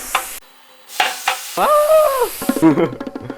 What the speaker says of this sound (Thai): วอร์มกระทะแล้วก็ เทแป๊บซี่ลงไปครับ